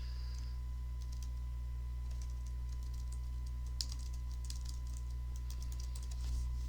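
Someone types on a computer keyboard, entering a name for a new tournament; the light, irregular key clicks are fairly faint and sit over a steady low electrical hum.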